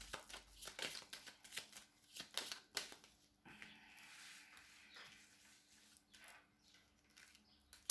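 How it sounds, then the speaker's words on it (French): Tarot cards shuffled by hand in a quiet room, a rapid run of papery riffles and flicks that fades into softer sliding and tapping, close and fairly faint with no talking. "je bats les cartes"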